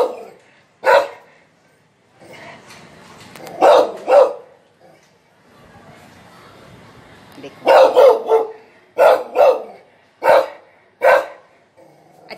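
A dog barks indoors in sharp, loud bursts: a single bark, a pair, then a rapid cluster of five or six, separated by quieter pauses with faint background murmur.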